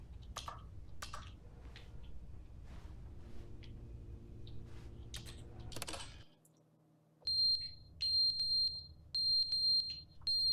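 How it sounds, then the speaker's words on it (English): A fire alarm in the video game The Stanley Parable goes off after a brief drop to near silence, sounding in loud, piercing high beeps that repeat in short clustered bursts. "It's like a fire alarm."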